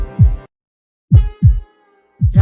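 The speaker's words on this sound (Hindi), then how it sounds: "दिल डर के मारे जोर जोर से धड़कने लगा" Heartbeat sound effect in deep thumping lub-dub pairs, loud and close, repeating slowly with gaps of silence between beats, evoking a pounding heart in fear.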